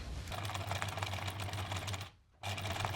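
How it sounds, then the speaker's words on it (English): A sewing machine stitches bias tape onto a linen dress with a steady rapid needle rattle and motor hum, stopping briefly before resuming, quiet and close with no talk. "With the back piece, I can also sew down the bias tape now."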